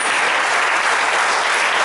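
An audience applauds panelists and moderators at an office-opening ribbon-cutting ceremony, with dense, steady clapping filling the whole stretch, close and fairly loud, with no voices.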